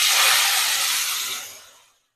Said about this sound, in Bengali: এবার দেখো এই আলুগুলো আমি দিয়ে দেবো তেলের মধ্যে